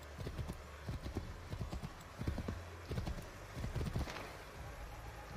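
Horse hooves clip-clop in a video game, a steady run of hoofbeats with an occasional whinny over a continuous game ambience and river-side background.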